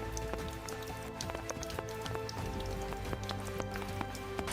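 Heavy rain pours steadily through a forest canopy, dense drops pattering continuously on leaves and branches, close and loud with no voices.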